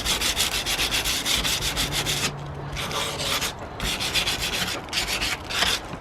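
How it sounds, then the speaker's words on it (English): Rapid back-and-forth scrubbing on rusty garden secateurs, a dry rasping rhythm of quick strokes with brief pauses between bursts, close and fairly quiet. "Just give it a light rub, not that bit of rust off."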